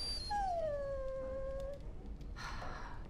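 A dog in the Dragon Age: Origins game gives a single drawn-out whimpering howl that slides downward and fades, fairly close, followed by a brief faint rustle.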